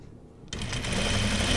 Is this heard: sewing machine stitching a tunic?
yes